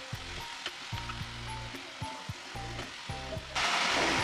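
Whole cumin seeds go into hot oil for a rajma dish, setting off a sudden loud burst of sizzling near the end after a quieter stretch with low tonal hum.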